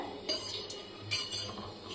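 A spoon clinks and scrapes against a bowl in a few bursts, stirring thick onion bhajiya batter, close and fairly quiet.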